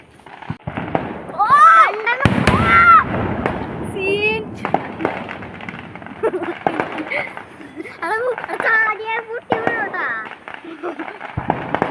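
Firecrackers bursting at a church festival at Kara, sharp repeated pops and crackles mixed with loud crowd chatter and shouting voices.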